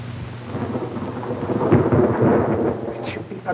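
A thunderstorm in a 1934 mystery film: a low thunder rumble swells over steady rain, then fades, loud and full, with no talking.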